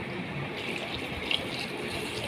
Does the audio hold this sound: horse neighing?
no